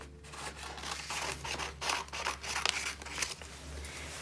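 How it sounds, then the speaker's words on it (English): Scissors snip steadily through paper, cutting out square boxes for a Matisse-style collage; repeated close, crisp cuts in an uneven rhythm over a low steady hum, with no voices. "I would start by cutting out each square box"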